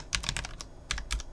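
Keys clatter on a computer keyboard in two quick bursts of close, crisp typing with a short pause between, no voices present.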